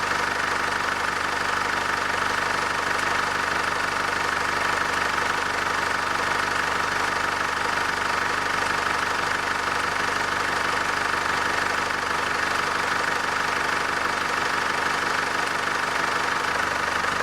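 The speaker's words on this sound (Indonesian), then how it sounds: "Mesin dari mobil Chevrolet Trailblazer 2800 cc dengan varian LTZ di sini dipastikan performanya handal" Chevrolet Trailblazer LTZ with a 2.8-litre 2800 cc diesel engine, 4x4, idling steadily up close, a continuous clattering diesel rumble with even knock and no speech.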